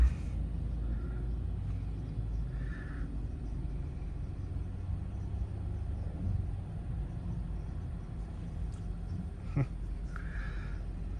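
A 2011 car drives through a busy roundabout, heard from inside as a steady low road-and-engine rumble. Faint passing traffic and brief distant noises sit over the rumble, with no talking.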